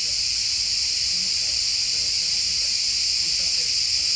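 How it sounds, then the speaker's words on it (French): Dense cicadas in summer keep up a loud, continuous, shrill buzzing chorus that holds steady throughout, close and without pauses. "il y a combien de cigales en fait?"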